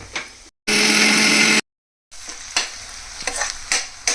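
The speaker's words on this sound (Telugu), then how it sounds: "ఆనియన్స్ అయితే చక్కగా ఫ్రై అయిపోయినాయి." Onions frying in a pan for keema curry, stirred with bursts of loud sizzling broken by short silences, then quieter scraping and clinking strokes.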